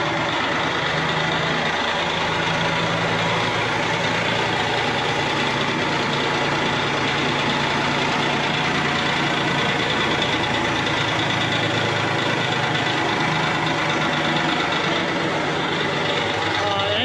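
A 570-horsepower pump engine idling, a steady dense mechanical drone that holds constant throughout at a close distance with no clear speech over it.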